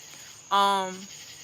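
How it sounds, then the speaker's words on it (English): A single crickets-chirping sound effect plays as a short, bright trill lasting about half a second, loud against a quiet background before fading away. "crickets, I guess"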